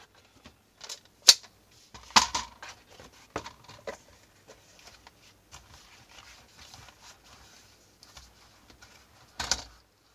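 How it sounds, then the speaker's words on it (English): A paper trimmer slices through Christmas digital craft paper in a few sharp, close cuts and slides, with quieter handling rustles and taps in between. "I'm going to cut it out using my trimmer"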